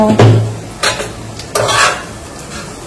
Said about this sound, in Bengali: চিড়ে ভাজার জন্য সবসময় সরু চিড়েটাই নেবে